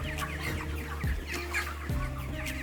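Thirty-day-old broiler chickens clucking in an open raised coop, overlapping soft clucks and short calls from many birds close by over a low steady background hum.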